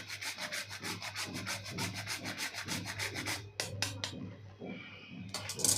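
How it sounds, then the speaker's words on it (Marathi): Nutmeg being grated by hand for besan ladoo, a close, rhythmic rasping of rapid back-and-forth strokes that pauses briefly near the end, with no voices. "आपल्याला अगदी थोडंसं जायफळ किसून घालायचं आहे"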